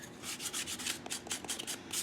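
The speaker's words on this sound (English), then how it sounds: "it makes life much easier when you're sanding it" Quick back-and-forth scratchy strokes of sandpaper rubbing rough edges off a wooden toy racer, a rapid rhythmic series of rasps up close, no voices.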